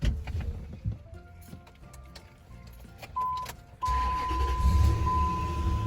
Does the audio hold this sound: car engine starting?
yes